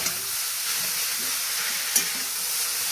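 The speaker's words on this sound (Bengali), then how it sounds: "ভালো করে নাড়িয়ে নিতে।" Grated carrots for carrot halwa stirred in a pan, producing a steady close hiss of frying with a couple of faint knocks from the spoon and no talking.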